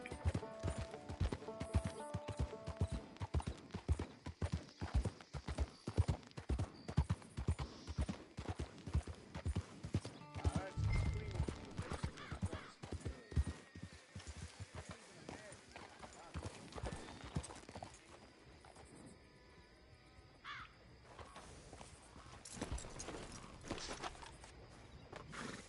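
Horse hooves clip-clop steadily in the Western video game Red Dead Online, a rhythmic run of close, clear hoofbeats through the first stretch that thins out later, with a voice talking over it and an occasional whinny.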